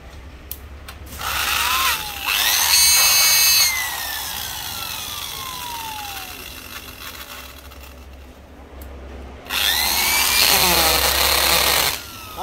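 A Makita 400W power drill with a 10 mm chuck runs in two bursts, each whirring up to a loud, high whine and then winding down. A quieter stretch lies between the bursts.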